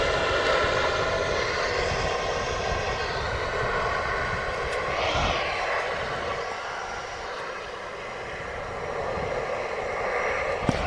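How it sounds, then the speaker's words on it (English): A Boeing 777-300ER airliner arriving from Doha touches down at Manchester Airport, a steady loud engine roar with a rising whine partway through, heard from a distance with no talking. "huge 777 300 ER touching down from Doha in Qatar."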